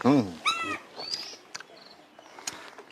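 A house cat meowing indoors, two drawn-out mews close by at the start, followed by faint scattered rustles and small noises in a quiet room.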